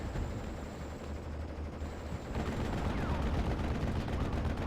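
Machine gun fire from a WWII strategy video game, field guns coming under MG fire, as a dense, continuous rattle of distant bursts amid battle rumble, getting louder partway through.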